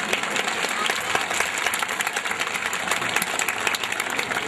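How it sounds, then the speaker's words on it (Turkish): Applause from a crowd at a 2012 festival after a group rhythmic gymnastics performance, steady dense clapping sustained for several seconds, moderately loud, with a voice faintly underneath. "Kendisini bir alkışlıyoruz."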